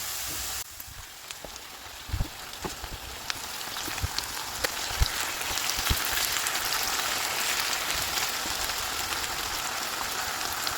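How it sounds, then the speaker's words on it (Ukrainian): Mushrooms added to onions already fried in a pan, sizzling with a steady broadband crackle and hiss that builds after the first second and carries on close up with scattered pops, no talk. "До підсмаженої цибулі додаю гриби і смажу 10-15 хвилин до випаровування вологи."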